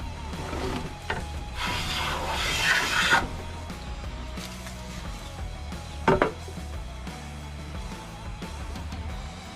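A restored Stanley Sweetheart No 7 jointer hand plane shaves fine curls from wood: one long, hissing stroke, then a shorter scrape later, close and alone over a quiet room.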